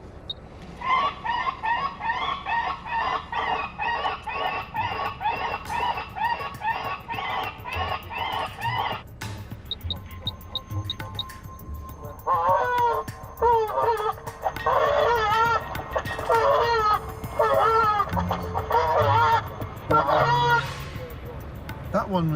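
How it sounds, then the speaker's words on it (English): A loud recorded bird distress call played over a speaker at an airport to disperse birds, first a goose's repeated harsh honks and clucks, then a break and a denser, shriller run of squawking calls, continuous and close throughout. "It's a distress call."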